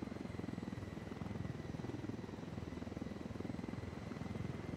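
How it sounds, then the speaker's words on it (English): A medic helicopter in the video game Ghost Recon Wildlands flies nearby, its rotor producing a steady rapid thumping pulse over a low engine drone throughout. "This is a medic chopper."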